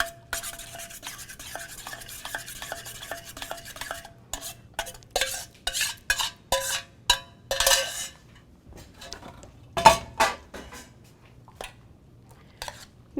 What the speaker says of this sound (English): I'm going to stir all that up